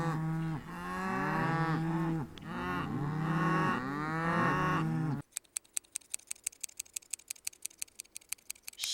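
Several loud, drawn-out cow moos overlapping for about five seconds, then a quiet stretch of rapid, regular ticking clicks.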